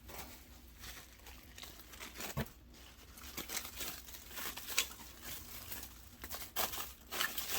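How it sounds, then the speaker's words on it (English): A plastic sheet is laid over a worm bin, giving soft, quiet crinkling and rustling in scattered bursts close by. "I'm just going to put the plastic on top right here"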